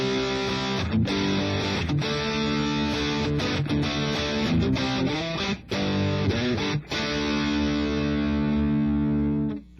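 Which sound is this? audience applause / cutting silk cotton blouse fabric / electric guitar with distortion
electric guitar with distortion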